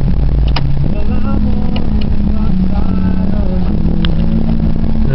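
A 1978 Chrysler Cordoba with a 360 four-barrel V8 starts and runs steadily, its engine droning loud and close with a low, even hum and faint clatter throughout.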